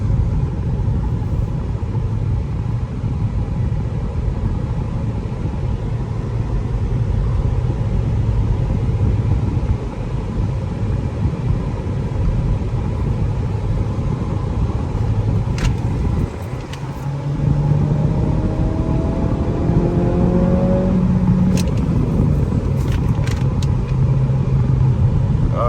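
A 2023 Acura Integra in sport mode drives steadily with a constant engine drone and road rumble heard from inside the cabin. After a brief dip as it shifts gears, the engine tone climbs again under acceleration.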